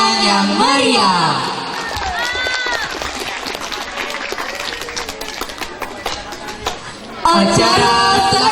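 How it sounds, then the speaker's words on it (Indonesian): Applause and cheering from the audience at a school farewell and graduation ceremony for SMPN 3 Keritang students, a dense wash of clapping that sounds after a short burst of speech and music, then fades as music returns. "Beri tepuk tangan yang meriah."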